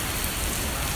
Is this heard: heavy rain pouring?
yes